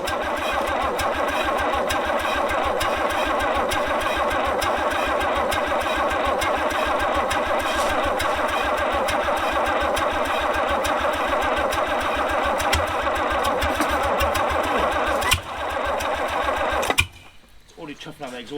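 An abandoned 1950s Rolls Royce engine cranks and turns over in a steady, loud, rhythmic churn, chuffing through the exhaust for about seventeen seconds before cutting out abruptly.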